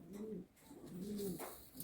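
Andhra pigeons coo in low, rolling phrases, two or three close warbling calls repeated at moderate volume with little background noise.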